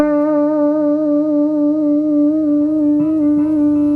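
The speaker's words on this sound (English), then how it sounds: "So the vibrato sounds like this." A single sustained electric guitar note wavers steadily in pitch with vibrato, clear and loud, ringing alone for several seconds.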